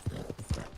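Horse hooves clip-clopping in Red Dead Redemption 2, a few close, dull thuds in an uneven walking rhythm over a quiet outdoor background.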